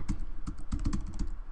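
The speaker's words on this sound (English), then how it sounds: "Oh, I'm typing." Rapid typing on a computer keyboard during a crossword puzzle race, a quick irregular run of close, crisp key clicks with no talk.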